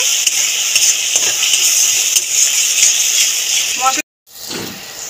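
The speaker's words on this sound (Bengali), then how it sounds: "মশলা ধোয়া জলও দিয়ে ভালো করে মশলাটাকে কষিয়ে নেব।" Spice paste for an okra curry fries in a pan with turmeric, salt and a splash of water, giving a steady close sizzle and hiss throughout, cut off briefly near the end before resuming; a voice speaks faintly underneath.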